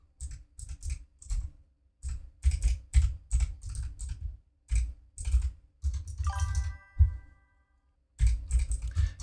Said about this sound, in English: Oh, Autark, this is the unfiltered keyboard sounds.